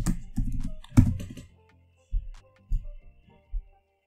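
Python code being typed on a computer keyboard: a burst of fast, close key clicks, a sharp louder keystroke, then a few spaced single taps and a final press.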